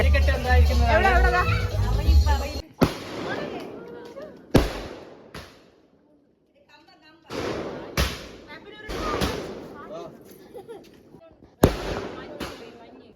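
New Year fireworks go off outdoors in sharp, loud bangs separated by pauses, some echoing, while children and others chatter and shout nearby.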